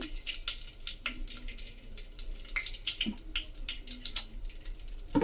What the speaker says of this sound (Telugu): వీటిలో ఆయిల్ వేసుకుందాము చూడండి ఆవాలు జీలకర్ర వేస్తున్నాను